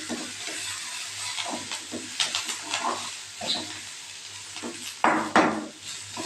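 Ingredients for mint chutney, including green chillies, are sautéed in a pan: a soft sizzle under irregular scraping and stirring taps of a spoon, with a couple of louder clatters near the end.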